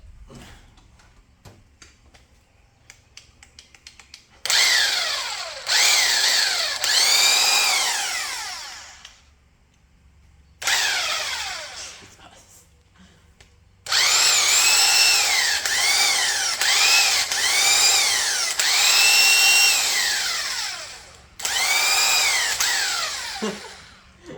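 A 3/4 inch impact wrench, wired for 120 volts, runs in several long bursts of loud hammering whine with brief pauses and rising and falling pitch between them, close and alone.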